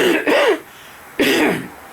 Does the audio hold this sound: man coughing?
yes